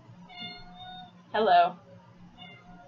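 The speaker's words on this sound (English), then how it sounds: "The cat says hi." Partway through, a cat lets out one short, loud meow, close by and well above the soft voice of someone talking before and after it.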